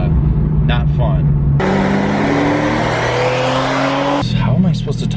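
A Porsche 911 Carrera 4S roars under acceleration while driving, its engine and exhaust note climbing steadily in pitch for a few seconds before cutting back. Loud and close, with muffled cabin sounds and possible voices before and after the pull.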